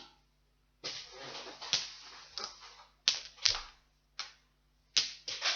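Metal dice for tabletop role-playing are handled and dropped into a set up close: several bright, clattering bursts of metallic clicks arrive in uneven clusters separated by short quiet gaps, with no talking.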